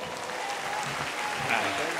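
Brief, fairly faint audience applause for Teo Teocoli at a live show, a short steady patter of clapping.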